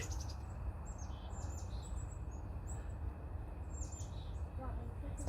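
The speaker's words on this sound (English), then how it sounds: "Look at the birds there." Birds chirp and tweet on a greenway nature trail along the Humber, small calls scattered across a steady background rumble of wind or traffic, moderately distant, with faint voices nearby.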